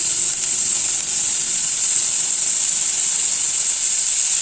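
Onions and tomatoes sautéing in a pan with coarse salt, a steady, even sizzle and hiss that holds at a constant level throughout, close and alone with no talking.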